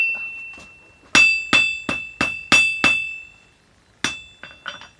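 Hammer blows forging a goblin-style knife blade on an anvil, a sharp ringing metallic strike repeated in a quick steady series of about six, then a pause and a few more lighter hits.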